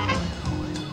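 A police van siren in the video game This is the Police wails steadily with a wavering up-and-down pitch, moderately loud and without speech.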